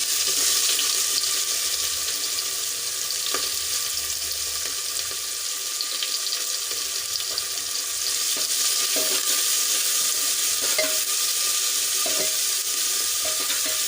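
Chopped onion sautéing in hot oil with cumin and hing, a loud continuous hiss and crackle close up, with faint scrapes and taps of a spoon stirring now and then.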